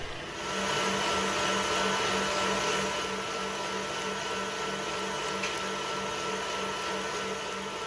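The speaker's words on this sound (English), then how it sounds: "The next day, beat until getting a creamy consistency." Electric mixer beating chilled pastry cream until creamy, a steady, moderately loud motor hum with a faint rhythmic churn, running continuously throughout.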